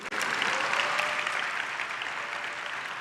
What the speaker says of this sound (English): Once again, a big round of applause to Ms. Kim.